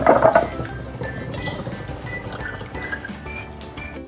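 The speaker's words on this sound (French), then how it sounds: "j'ai à nouveau lavé mes carottes à l'eau froide" Carrots being washed in cold water, with a brief burst of splashing and clinking against a bowl or pan at the start, then quieter dripping and light clinks, no speech.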